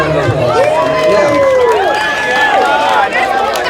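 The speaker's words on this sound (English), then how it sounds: "Big round of applause." Wedding guests at a reception cheer and shout loudly in a lively crowd, with overlapping whoops and excited voices close by; clapping is not clearly distinct under the cheering.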